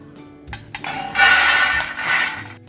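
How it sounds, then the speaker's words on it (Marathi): Roasted peanuts tipped from a pan onto a plate, a short burst of clinking and rattling against the dish with a few sharp knocks before the pour, close and fairly loud, no talk. "आता ते शेंगदाणे मी प्लेटमध्ये काढणार आहे व ते थंड होऊ देणार आहे।"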